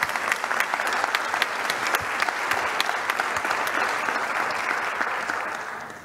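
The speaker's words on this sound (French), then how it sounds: "Ça mérite vos applaudissements" An audience at a closing session of a conference gives steady, sustained applause, many hands clapping densely and evenly before the clapping tapers off at the end.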